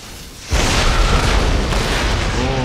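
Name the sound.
artillery fire explosion in Empire: Total War video game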